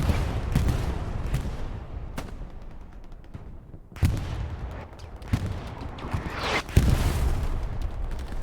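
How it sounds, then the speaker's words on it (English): Artillery and gunfire boom across a Hell Let Loose battlefield, with several sharp, loud blasts at irregular intervals over a continuous rumbling din of distant fire. "Artillery is blasting"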